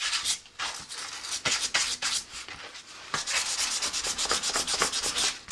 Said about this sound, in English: Kind of just sand some of those down, give this a scuff, and prime this.